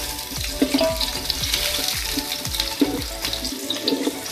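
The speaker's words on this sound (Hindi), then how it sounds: "घी में मैंने इसको फ्राई किया है" Chopped onions frying in ghee in a pan for aloo matar yakhni pulao, a loud continuous sizzle broken by repeated stirring scrapes, close up with no voices.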